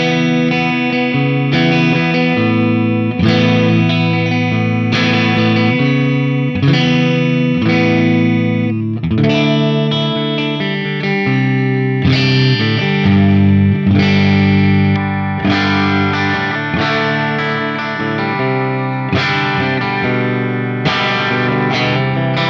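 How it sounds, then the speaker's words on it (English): An electric guitar played through a Fractal modeler dialed to a JTM 45 style clean tone rings out in chords and picked notes with sustained, slightly driven harmonics. It plays loud and continuous, with no talking. "let's just dial this in quickly for a JTM 45 style clean tone"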